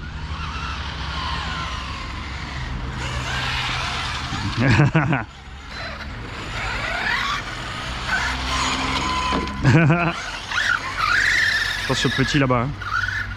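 X-Maxx RC stadium truck on MCD street tires with 24/35 gearing, its electric motor whining up and down as it drives and slides on cooling tires, a steady close buzz with brief skids, under someone talking.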